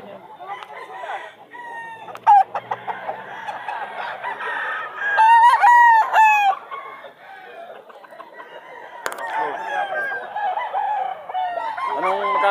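Roosters crowing and hens clucking at a pet market in Bulacan, several birds close by with overlapping crows and clucks, and people talking in the background.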